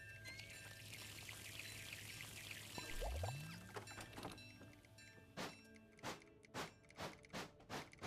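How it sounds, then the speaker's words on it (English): Water pours steadily while a tank is being filled, with a low hum, a rising tone and a few thunks, then a run of rhythmic gushing bursts; faint and without talk. "I'm going to fill up with water first."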